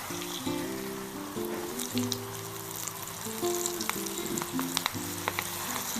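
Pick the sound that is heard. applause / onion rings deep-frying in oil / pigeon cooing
onion rings deep-frying in oil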